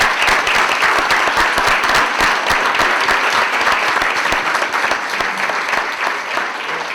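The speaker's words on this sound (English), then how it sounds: "Let's give a big round of applause for the graduates" A graduation ceremony crowd at a Centre for Entrepreneurship second-chance graduation in 2005 applauds the graduates with loud, dense, sustained clapping from many people, tapering slightly toward the end.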